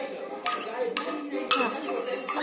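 Slime being stirred in a bowl with a utensil, made with Boroplus cream, giving repeated clinking, scraping strokes against the bowl at a steady close rhythm, with no talk over it.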